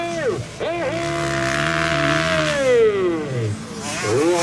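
Motocross motorcycles at a Garut track in Indonesia race through the final lap, engines revving in loud rising and falling whines that swell close by as a bike passes, with a commentator's voice partly over them.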